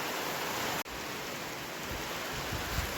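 Steady rain falling after a long night of rain, heard as a dense even hiss with no distinct drops and no voices, briefly cut once near the start.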